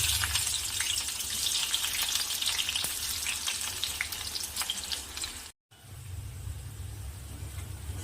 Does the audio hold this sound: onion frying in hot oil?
yes